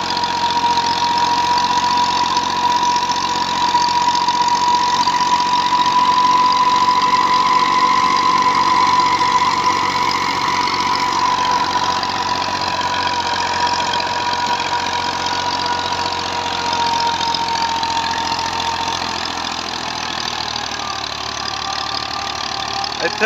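An old Massey Ferguson 240 tractor fitted with a big 54-cutter rotavator runs at a steady, loud close idle for over twenty seconds, a constant low rumble with a faint whine through the exhaust silencer.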